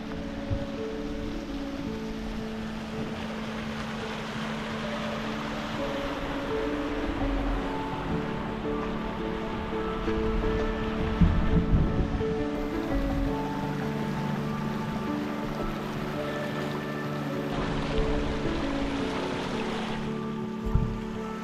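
A small creek runs through the Alabama Hills near Lone Pine, California, rushing in a steady, fairly loud broadband wash with brief surges, and no talk over it.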